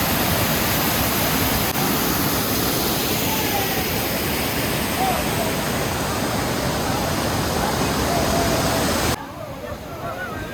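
A waterfall in Andhra Pradesh sends water pouring over rocks in a loud, continuous rush that stays close and steady, then drops off sharply near the end.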